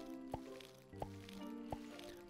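Crops being watered with a watering can in the farming game Sun Haven: three soft, evenly spaced splashy drips over quiet background music.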